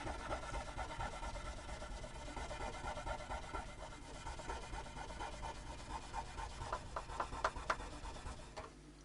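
Steady dry rubbing of a cloth over the grimy fretboard of an Epiphone Dot guitar, a continuous close scrubbing rasp that holds the whole stretch without pause, with no voices.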